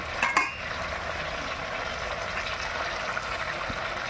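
Chicken curry with potatoes fries in a pot over a wood fire, a steady soft sizzle with a brief scrape of stirring near the start.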